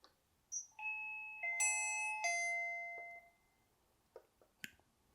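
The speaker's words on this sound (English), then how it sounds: "the ringing sound from the doorbell and from the display were pretty crispy and really loud" A video doorbell with a display chimes in a few clear, bright tones that ring on and fade, followed by a couple of faint clicks.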